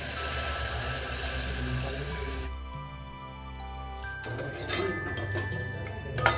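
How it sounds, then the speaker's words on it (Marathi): Water is poured into a simmering paneer gravy with a soft liquid rush, followed by light bubbling and a few small clicks and taps. "आता याच्यामध्ये थोडंसं पाणी घालते, ग्रेव्हीनुसार पाणी घालते"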